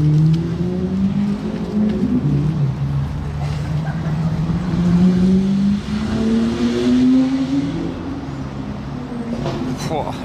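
A modified Lamborghini Aventador SV with a Gintani exhaust rumbles at a distance, its engine tone rising and falling in long sweeping pitch glides over steady outdoor noise and crowd murmur.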